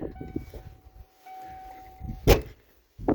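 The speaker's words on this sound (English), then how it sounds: "I lift the door up and shove it with my shoulder." An old truck door is lifted and shoved shut with a shoulder, ending in a single loud, sharp slam after some low thumps and rustling, with a faint steady hum in the background.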